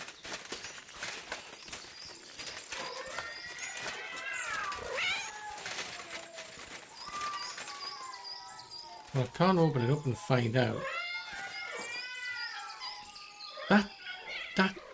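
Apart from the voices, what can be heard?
many cats meowing in Kingdom Come Deliverance 2 video game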